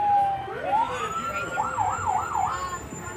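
Webville fire engine 714 sounds its wailing siren in a small-town parade in Grayson, Kentucky, a loud rising whoop followed by a rapid warbling yelp, with crowd noise behind.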